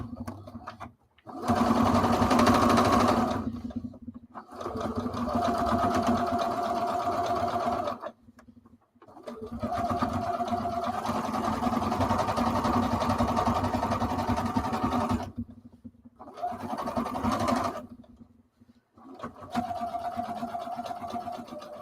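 A domestic sewing machine runs in several long stitching bursts separated by short pauses, its motor whirring steadily with a fast mechanical chatter, loud and close.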